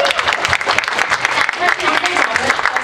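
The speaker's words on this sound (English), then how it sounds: "let's give Bethany a round of applause." Applause from a convention panel audience at a Power Rangers fan event, a steady dense clapping with crowd noise throughout the short stretch, fairly loud and close.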